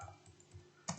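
A few soft keystrokes on a computer keyboard while typing in Microsoft Excel, with a single sharper, louder key press toward the end.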